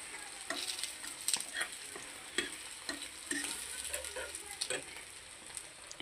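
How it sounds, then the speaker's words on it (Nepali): An egg frying in a pan, a steady close crackle and sizzle with scattered scraping clicks, faint talk barely present. "एग फ्राई भएको छ हैन।"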